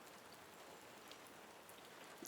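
Steady rain falls outdoors in autumn woodland, a soft, even hiss of drops close by with a faint patter on surfaces and no voices.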